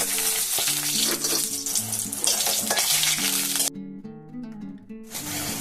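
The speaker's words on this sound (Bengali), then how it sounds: "দেখুন আমি এই বড়িগুলো দেবো, দিয়ে আমি একটু ভেজে নেব।" Lentil dumplings (bori) frying in hot oil in a home kitchen, a steady loud sizzle throughout, briefly dropping in level before surging back.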